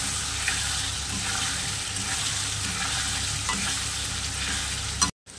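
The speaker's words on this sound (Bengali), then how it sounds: "আর চিংড়ি মাছটা ভাজিনি, একবারে মশলার সাথে কষা পাবে, সব কিছু দিয়ে দিই তারপর।" Prawns fry with spice paste in a pan, giving a steady close sizzle with stirring scrapes that runs without break until a sudden cutoff near the end.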